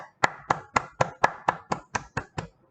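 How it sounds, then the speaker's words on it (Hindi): Ten crisp, evenly spaced hand claps from a single person in a classroom setting, close and clear, about four per second, then silence. "तालियों के साथ इनका स्वागत किया जाए"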